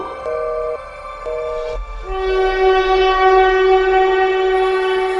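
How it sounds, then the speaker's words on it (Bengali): A train horn sounds in two short blasts, then a long sustained blast as a heavy low rumble of the train rises and rolls closer. "অন্ধকারের মধ্যে ট্রেনটা দেখা গেল"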